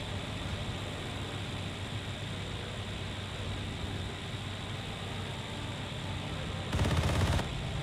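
Bf 109 E-4 machine guns fire in IL-2 Cliffs of Dover, one short loud burst near the end over a constant roaring engine drone.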